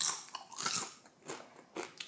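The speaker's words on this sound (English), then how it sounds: "That's a crispy potato. Let's listen to the crunch." Crisp crunches from biting into a crispy homemade potato chip, several sharp bites and chews spaced apart, close and fairly loud with no talking.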